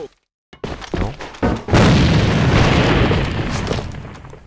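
A grenade goes off in the shooter game AVA: a sudden loud boom erupts and rolls out into a long, dense rumble after a few sharper clicks and thuds.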